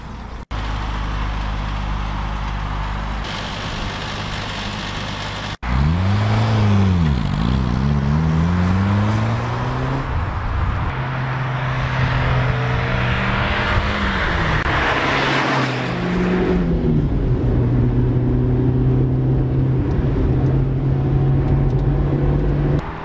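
A Nissan Sunny car engine, first a steady idle, then sharp revs rising and falling in pitch before settling into a held, even drone, loud and close with no talking.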